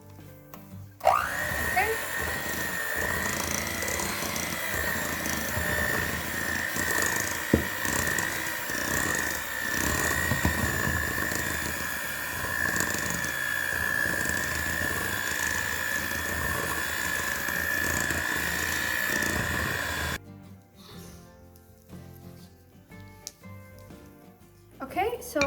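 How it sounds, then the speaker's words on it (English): An electric hand mixer beating chocolate chip banana bread batter in a bowl, a steady whirring hum that runs for about twenty seconds, then stops, with a brief spoken word near the start. "I'm going to go in with my mixer and properly mix it."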